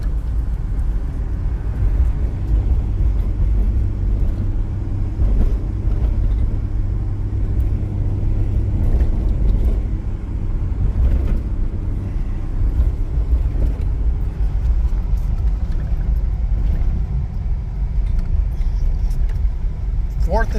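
A 1993 Nissan Pathfinder XE V6 runs with a steady, deep engine rumble close by, holding an even low drone throughout with slight fluctuations.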